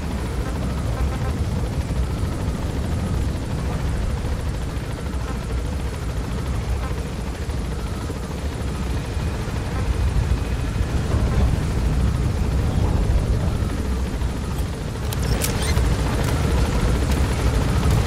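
A helicopter gains altitude in the video game Metal Gear Solid V, its rotors producing a loud, continuous throbbing roar with no break, and a brief electronic blip near the end.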